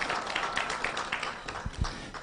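Audience applause at an economic symposium, a brief dense patter of clapping from a crowd at moderate loudness, without other sound.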